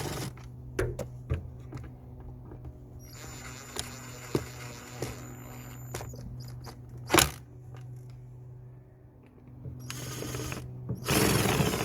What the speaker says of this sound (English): Just gonna tighten the screws back on.